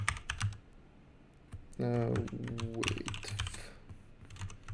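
Close clicks of typing on a computer keyboard, in scattered bursts before and after a brief stretch where a person speaks.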